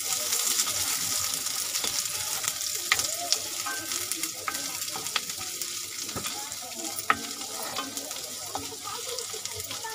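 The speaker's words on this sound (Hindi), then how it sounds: "तो देखिए तेल अब गर्म हो चुका है, तो इसमें हम कटा हुआ कांदा डालेंगे, उसे मिक्स कर लेंगे अच्छे से।" Chopped onion fries in hot oil in a kadai, a steady crackling sizzle with scattered sharp pops and stirring clicks throughout, no one talking.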